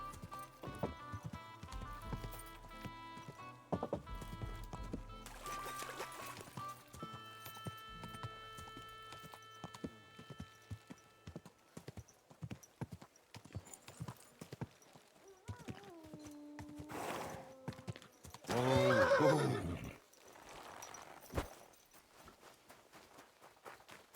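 Hooves clip-clop steadily from a horse in the video game Kingdom Come 2, with a short whinny near the end and background game music; no one talks.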